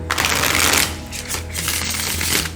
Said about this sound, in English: It shuffles like a dream. It riffle shuffles.